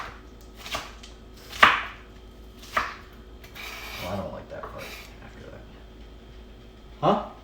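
A knife chops green onions on a cutting board in a few sharp, separate strokes spread out over several seconds, with people talking between the chops.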